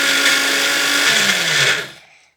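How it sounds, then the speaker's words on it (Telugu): A kitchen mixer grinder whirs loudly as it grinds gongura leaves, a steady high-pitched motor whine that holds for about two seconds, then spins down and fades to silence, with no talking. "గోంగూరని మొత్తం మిక్సీ పట్టుకున్నాక అది కూడా ప్లేట్లో వేసుకోవాలి"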